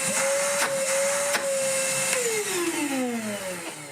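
A Sealey 20V cordless vacuum running in blower mode gives a close, steady high-pitched motor whine whose pitch sags midway through, loud and alone.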